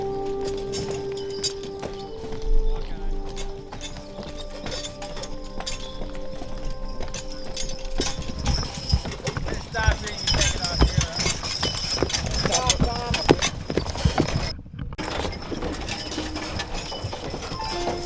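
Hooves of horses and mules pulling a wagon on a wagon train clip-clop in a steady, continuous rhythm, joined by creaks and rattles of the wagon, while people talk over the sound.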